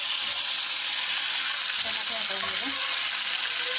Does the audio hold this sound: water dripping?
no